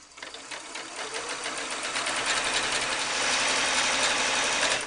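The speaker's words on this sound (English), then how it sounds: "I'll just sew a straight seam all the way down the length of the tulle." A sewing machine runs a continuous straight seam through tulle, a rapid rattling needle rhythm that builds up and holds steady at close range before stopping, with no talk.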